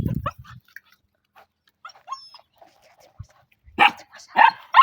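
Puppies and dogs meeting other dogs give a few short barks and yips. These come as scattered sharp bursts, with a louder cluster near the end and quiet gaps between them.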